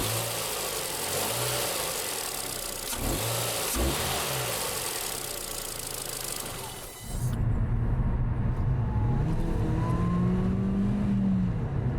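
A car engine fitted with the original OEM air filter runs at a steady, loud idle. It is then revved, with the pitch rising and falling, and a clear change in engine tone comes partway through.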